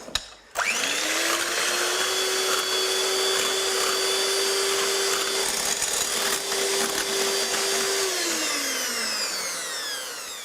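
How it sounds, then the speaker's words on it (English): An electric whisk beats egg whites for chocolate and almond cookies, a steady loud motor whine running alone for about eight seconds before winding down. "we're just going to whisk up our egg whites."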